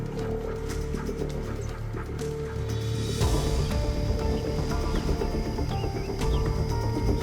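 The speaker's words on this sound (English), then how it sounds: "The wild dog pack brings down its prey with terrifying speed." A pack of wild dogs brings down an impala along a riverbank, with excited whimpers, yelps and panting close by over a dense, busy background with birds.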